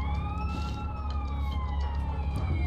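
Wailing ambulance sirens in GTA San Andreas, rising and falling in pitch over a heavy low rumble of traffic and engines, continuous and fairly close.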